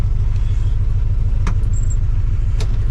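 A big block 454 engine in a Chevy C10 truck, running rough, holds a loud, continuous low rumble at close range, with a couple of brief sharper knocks partway through.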